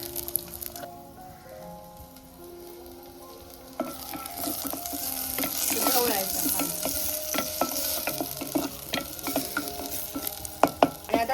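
Chopped onion dropped into hot oil with garlic in a clay pot, frying with a steady sizzle that swells after a few seconds, with stirring scrapes and small crackles.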